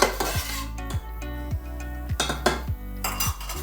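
Sliced onions, peppers and garlic are stirred in a pan, a utensil scraping and clinking against the metal in repeated strokes, close and steady, with no talking.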